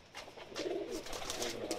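Soft, low pigeon cooing repeats in short rolling phrases, fairly close, with faint background hiss and no voices.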